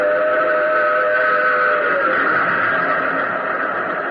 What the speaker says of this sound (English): plunging from the tunnel's mouth, like some black, terrible monster, roared a train. It tore by me in a deafening roar.